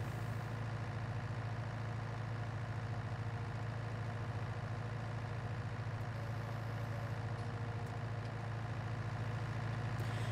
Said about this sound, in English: I'll try and not get the tractor even more scratched.